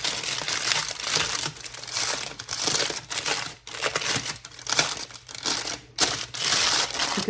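Foil crinkled and rolled tight around the ends of a meatloaf-and-potato packet for a crockpot, a loud, continuous crackling and crumpling with short pauses, close up and with no talking.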